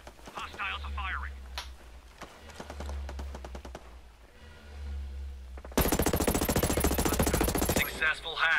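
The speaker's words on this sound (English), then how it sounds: "Hostiles are firing." Rapid automatic gunfire from hostile soldiers in the video game Ghost Recon Breakpoint, a sustained dense burst of shots lasting a couple of seconds after stretches of in-game voice lines and radio chatter.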